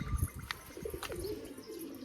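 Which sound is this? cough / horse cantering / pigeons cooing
pigeons cooing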